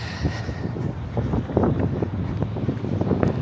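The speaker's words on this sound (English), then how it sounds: "Wind is picking up again." Gusty wind blows outdoors on a Manhattan street, buffeting the microphone with rough, uneven rumbling bursts that rise and fall continuously.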